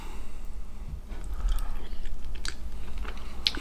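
Close, crunchy chewing and biting on a mouthful of venison chili with still-crisp vegetables and tender meat, repeated soft crunches over a quiet room with no talking.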